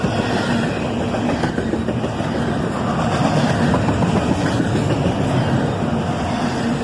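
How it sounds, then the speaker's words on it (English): A CSX northbound intermodal freight train, led by an ES44AC locomotive with a second distributed-power unit, passes with a loud, steady, close rumble of engines and rolling wagons. "Northbound intermodal, led by an ES44 ACH. This train also has a second unit running distributed power."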